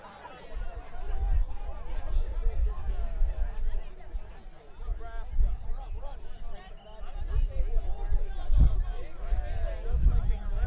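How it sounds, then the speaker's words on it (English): Crowd noise at a quidditch match in the US Quidditch Cup 2022, Tufts University against Creighton: steady chatter and cheering hubbub from spectators with occasional laughter, fairly loud and continuous throughout. "The crowd is certainly into it"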